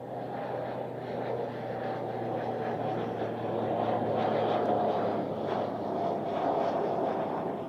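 A Swiss-made Pilatus PC-12 turboprop at Zurich Airport gives a steady, loud engine drone that holds evenly throughout, with a faint tonal hum running beneath and some wind rush.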